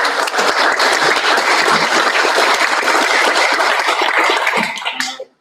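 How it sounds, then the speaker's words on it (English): Sustained, dense applause from a crowd at a launch party for the ERDi i4.0 TestLab, a steady loud roar of clapping for roughly five seconds that fades out abruptly at the end. "So I'd like to give them a round of applause."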